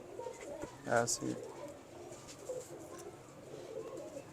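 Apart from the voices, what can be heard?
pigeons cooing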